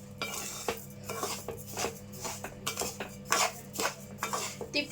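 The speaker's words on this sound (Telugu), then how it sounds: "తిప్పుకుంటూ వేయించుకోవాలి రవ్వ వేగటానికి టైం పట్టిద్దండి కొంచెం" Wheat semolina being stirred and roasted in ghee in a pan, with a spoon scraping and clinking against the metal in a steady, repeated rhythm and a faint sizzle underneath, up close and alone.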